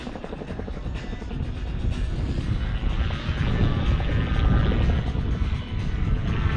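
A Calidus autogyro flies overhead at the Weston Park air show on a warm day, its rotor and propeller making a steady, loud droning hum that holds for several seconds with no voices.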